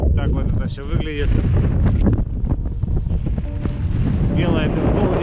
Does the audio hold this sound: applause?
no